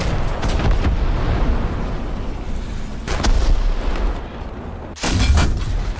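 Main gun shots from a T34 tank in War Thunder come as heavy, booming blasts with rumbling tails, loud and close, one early, one near the middle and one near the end, with no talking.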